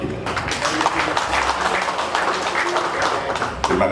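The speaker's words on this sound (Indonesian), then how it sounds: "Tepuk tangan begitu." A crowd applauds at the anniversary declaration of Tanggan village in Gesi, Sragen, Central Java. Brisk, lively clapping fills the space, with voices audible among the claps the whole time.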